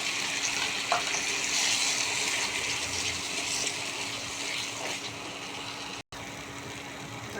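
Cashew and poppy seed paste frying in ghee gives a steady, close sizzle that runs the whole length with little change, broken only by a brief dropout near the end.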